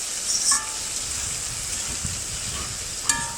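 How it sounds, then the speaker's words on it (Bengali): Spice paste sizzles in a hot pan for fish-head muri ghonto, a continuous close frying hiss broken by two brief metallic clinks of stirring. "ভালোভাবে কষিয়ে নেব মশলাটা"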